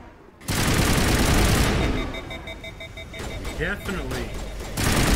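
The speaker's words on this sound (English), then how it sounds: "Well, we're definitely gonna get a chance to try out these explosive rounds." Explosive-round gunfire in Mass Effect Legendary Edition: a loud, dense burst of shots runs for over a second, then gives way to electronic tones and someone talking over quieter game sound.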